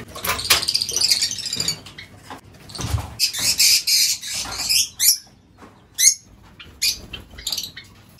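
Pigeons at a colony feeding on mixed grain, with bursts of chirps, squawks and wing flaps that rise and fall across several seconds, near and fairly loud with busy gaps between.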